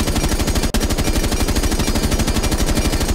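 A G36C assault rifle fitted with a compensator fires a sustained full-auto stream in Rainbow Six Siege, steady rapid rhythm of loud close shots with one brief break near the start.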